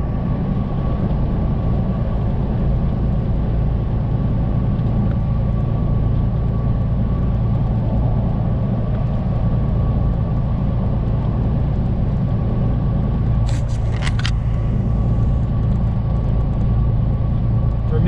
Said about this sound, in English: Then we drive through on I-40 here.